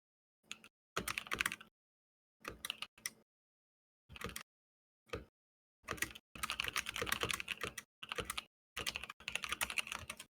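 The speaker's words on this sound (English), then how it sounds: "Not sure if the chat can actually hear my clickety clackety." Crisp, clicky computer keyboard typed during a Guild Wars esports league stream, heard in separate bursts of rapid keystrokes with short silences between, close and fairly loud.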